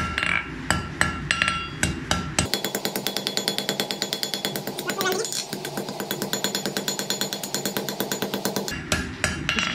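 Rapid, loud hammer blows shape a steel bar into a Mjolnir pendant, dozens of sharp metallic strikes in a steady fast rhythm after a few slower opening hits, ringing close by.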